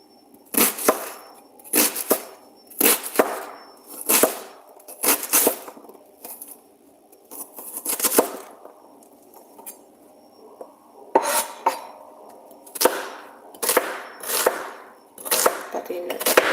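A knife chops onions on a board in a home kitchen, a string of sharp, close cutting thuds in uneven groups with brief gaps, while a voice murmurs faintly at times.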